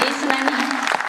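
Brief, dense applause from an audience at a Hindi poetry recital, a short burst of clapping close and moderately loud.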